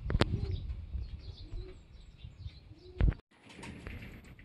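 A racing pigeon arrives home during a fun race, a brief flutter of wings and soft cooing rising over quiet outdoor ambience, with a loud wing-clap burst near the end.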